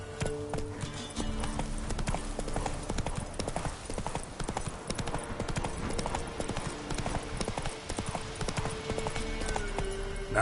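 Roach the horse from Witcher 3 gallops with steady, rapid clip-clop hoofbeats throughout, close and continuous over game music, with a brief whinny-like sound.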